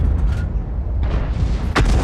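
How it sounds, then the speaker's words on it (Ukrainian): A deep booming cannon shot from a tank in a video game, a sharp burst near the end over a steady low engine rumble. "Ну, постріл."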